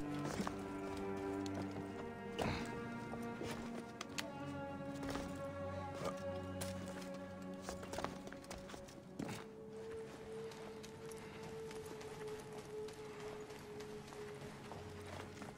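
Horse hooves clip-clop at a steady run in Assassin's Creed Origins, the rhythmic gallop sitting under game music and ambient tones, fairly quiet and without talk.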